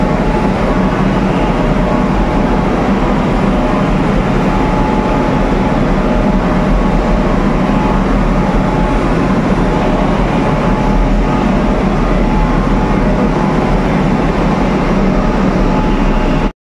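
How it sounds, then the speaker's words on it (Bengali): A Kolkata metro train at Sector 5 station, about to head back toward Howrah Maidan, makes a steady, loud, continuous rumble with a broad mechanical hum throughout and no voices. "এই মেট্রোটা আবার ব্যাকে চলে যাবে হাওড়া ময়দানের দিকে"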